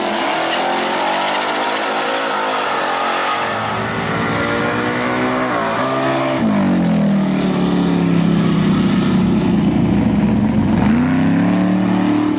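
Drag-racing Mustangs with supercharged 5.2-liter Coyote V8 engines: a loud, sustained engine roar that shifts pitch as the cars rev and pull away, climbing then settling into a steady heavy drone, with no talking.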